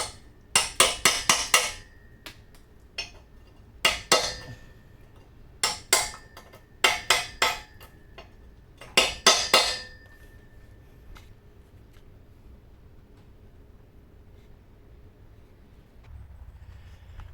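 Sharp metallic chisel strikes chip rust from around the rear muffler flange and pipe on a 2012 Honda Civic, coming in quick irregular bursts and clusters before falling quiet near the end.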